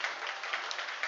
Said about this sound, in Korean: 인사할 때 박수로 뜨겁게 환영해 주시면